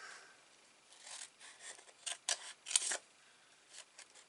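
Scissors snip and trim the edges of small paper craft treat cups, a run of short crisp cuts that grow into a few sharper, louder snips, fairly close and quiet, with no talking.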